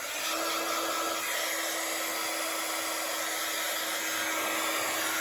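Heat tool blowing a continuous, steady whoosh with a faint whine while warming a stamped Christmas craft project, close and constant with no talking.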